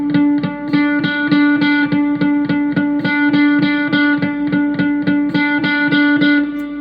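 A Kamen GTX33 electric guitar played through effects, producing a steady, repeated strummed pattern with a sustained distorted tone, even and fairly loud throughout with no talking.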